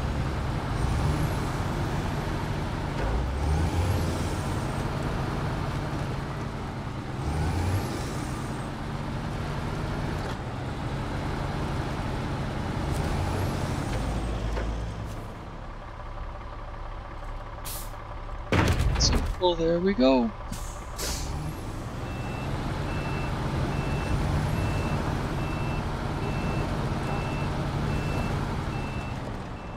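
A truck in SnowRunner manoeuvres at a Michigan logistics base while being loaded. A low engine rumble runs under repeated reversing beeps, then comes a sharp air-brake hiss and clunks, with someone talking briefly in between.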